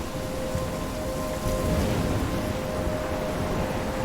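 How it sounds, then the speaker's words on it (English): A storm in the Life Is Strange video game: a steady, dense wash of rain over a low rumble of thunder, loud and continuous with no voices. "I'm trapped in a storm?"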